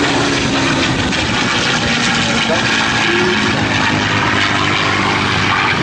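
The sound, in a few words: warbird propeller aircraft engine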